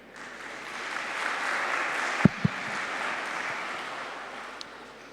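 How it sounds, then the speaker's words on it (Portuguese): Audience applause for a speaker taking the stage at a Portuguese conference session, a steady wash of clapping lasting several seconds with a couple of sharp knocks partway through, moderately distant. "Peço uma salva de palmas."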